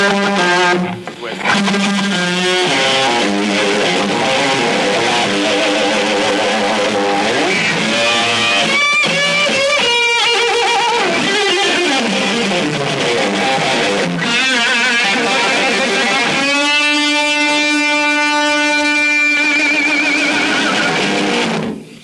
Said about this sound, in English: This is the distortion which I use on the Stratocaster to fatten the sound up